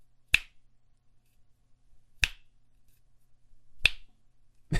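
Three sharp finger snaps ring out about two seconds apart, crisp and fairly loud against near silence, with a fourth starting just as it ends.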